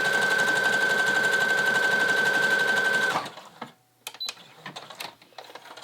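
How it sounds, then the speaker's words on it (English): A sewing machine stitches elastic onto a doll sleeve, running steadily and loudly for about three seconds before stopping, followed by faint handling clicks and rustles. "just let my machine run it, but I'm holding onto the elastic"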